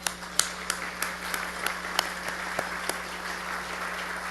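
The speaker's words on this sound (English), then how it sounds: "Let's give Barry and John a big round of applause." An audience applauding two accountants at an awards ceremony, scattered sharp claps over a sustained patter, moderately loud and continuing steadily, with no talk over it.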